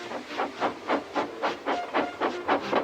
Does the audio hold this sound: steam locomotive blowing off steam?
yes